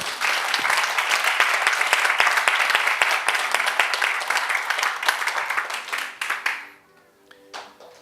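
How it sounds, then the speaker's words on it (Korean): Enthusiastic applause from a church congregation, dense and sustained for several seconds, then tapering off into quiet with a few lingering claps. "우리 하나님께 감사의 박수 올립시다."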